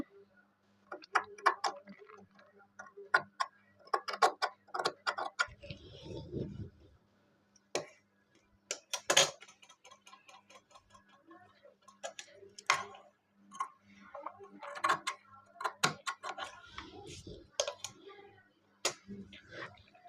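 Scissors cut away excess blouse fabric in a series of crisp, close snips with irregular rhythm and brief pauses, in a quiet room.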